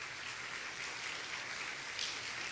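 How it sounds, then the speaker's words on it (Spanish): Congregation applauding during a Spanish-language church service, a steady wash of clapping hands that holds evenly throughout, moderately distant and without speech. "Denle ese aplauso fuerte a Dios."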